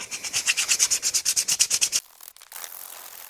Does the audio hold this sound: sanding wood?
yes